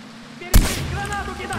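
A single sharp, booming grenade explosion in the video game Far Cry 4 hits suddenly and rumbles away, with a voice talking faintly underneath.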